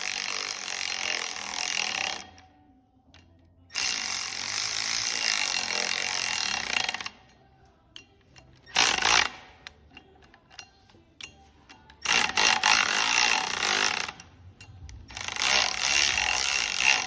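A power drill bores into a GM 3800 crankshaft for larger flywheel bolts, running in several loud bursts of a few seconds each with short quiet pauses between, the motor speed rising and falling.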